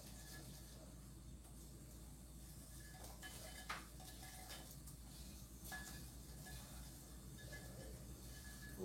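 Bread pieces frying in hot oil in a frying pan give a steady, quiet sizzling hiss throughout, with a few faint clinks of pan or utensil.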